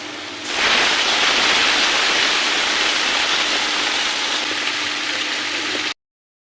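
Chicken pieces hit hot oil tempered with cumin seeds, setting off a sudden loud, steady hiss that runs for several seconds and then cuts off abruptly.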